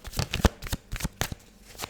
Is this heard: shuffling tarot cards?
yes